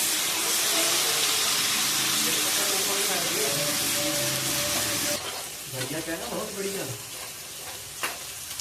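Onions fry in hot oil with ginger-garlic masala for matar paneer, first as a loud continuous sizzling hiss, then as softer, uneven frying with stirring and scraping, while a person talks nearby.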